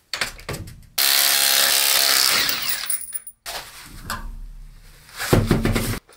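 Power wrench with a 19 mm socket removing wheel nuts from a Peugeot 406, a loud close whirring burst followed by a second shorter run, with metallic clinks and rattles between.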